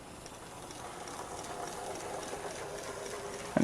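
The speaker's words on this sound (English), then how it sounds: "So let's see the little engine go round." Small Dapol 14XX model tank engine running round its track under DCC control, giving a steady, even whirring and rolling rattle that holds at a constant level throughout with no talking, ending in a brief bump.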